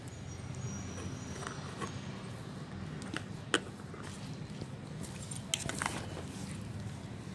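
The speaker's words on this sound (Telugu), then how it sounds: "ఇలాగా మొత్తం బెల్లం కూడా అయిపోయేటట్టుగా మనం స్మాష్ చేసేసుకోవాలి" Bananas and jaggery are smashed together for fertilizer: soft, wet squishing and mashing under faint room noise, with a few sharper knocks near 3.5 s and 5.7 s, and no talking.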